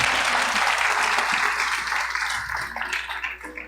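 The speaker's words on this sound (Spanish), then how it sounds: "Denle ese aplauso al Señor." A church congregation claps together in loud, dense applause that holds steady and then begins to thin and fade toward the end.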